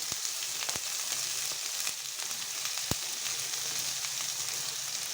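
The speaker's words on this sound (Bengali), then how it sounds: "লতিগুলো তেলের উপরে ভেজে নেব" Thinly cut taro stolons frying in a generous amount of mustard oil, a steady close sizzle with a few sharp pops and a faint low hum, no voices.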